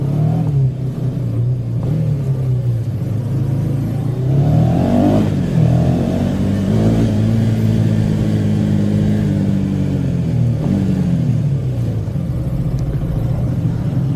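A car's engine rumbles up close as it drives slowly into a basement to park, rising and falling with a few gentle revs over a continuous low drone, no voices.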